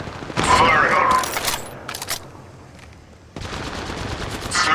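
Rapid automatic gunfire bursts in Apex Legends Mobile, loud bursts at the start and again later, with a quieter gap between; game effects and faint voice chat sit around the shots.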